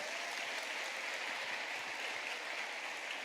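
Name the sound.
applause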